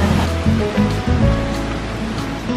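Stockghyll Force waterfall in Lake District woodland: a steady, loud, broadband rush of falling water, continuous and unbroken throughout, with no voices.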